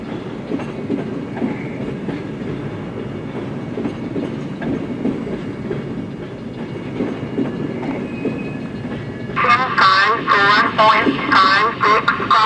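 A freight train rumbles past nearby with a low, continuous clattering roar at a rail yard; a crackly radio voice cuts in toward the end.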